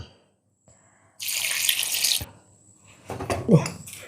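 Water, four glasses of thinned coconut milk from grated coconut, poured into a cooking pot of potato and onion during Onam sadhya preparation; a steady rushing pour of about a second, followed by clattering handling sounds.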